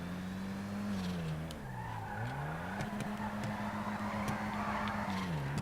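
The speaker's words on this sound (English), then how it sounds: "I'll show you what a drift is around the same corner with the e-brake engagement." Tires squealing through an e-brake drift in GTA 5 Online, a long wavering screech around a corner over a steady engine drone, close and loud without a break.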